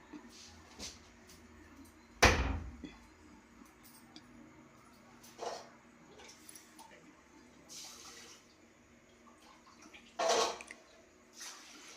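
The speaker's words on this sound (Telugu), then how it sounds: "కందిపప్పు వేసి శుభ్రంగా కడిగేసి వంచేసాను అనమాట నీళ్ళు." Toor dal being washed and drained, giving soft water splashes and trickles with a few louder pours, the first and strongest a little over two seconds in, over a quiet background with no talking.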